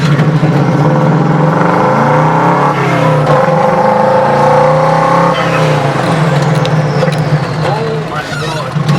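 A Mini Morris fitted with a Subaru WRX engine revs hard while driving on concrete, loud and close from the cabin, with the engine pitch rising and falling through gear changes and someone talking over it.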